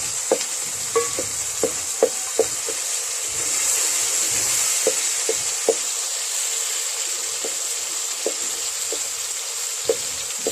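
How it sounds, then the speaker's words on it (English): Cabbage frying in a pan over an outdoor village cooking fire in Kenya, a steady soft sizzle running throughout with scattered sharp clicks and stirring knocks, close and alone with no voices. "my cousin, the one who is cooking, is frying cabbage"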